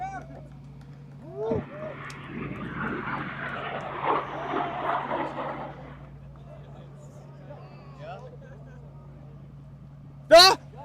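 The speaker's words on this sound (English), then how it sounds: "We have liftoff." A student rocket lifts off at a rocketry competition launch, with a distant, moderate roar lasting a few seconds. Excited crowd voices and cheering carry over it, and a sharp loud burst of sound comes near the end.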